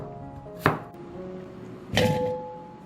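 A knife cutting a potato into large cubes on a board, two distinct, fairly loud chops about a second apart with quiet between, no speech.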